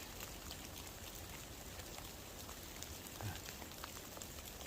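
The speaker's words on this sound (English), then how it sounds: "hear the rain" Steady rain falls on a hemlock-covered mountainside at a winter hammock camp, a soft continuous patter of drops without a break, fairly faint and with no voices.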